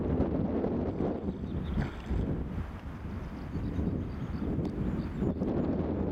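Gusty wind blows outdoors by the water during a fly-fishing outing in Säfsen, Sweden, roaring across the microphone in uneven buffeting surges that stay loud throughout, with no talking.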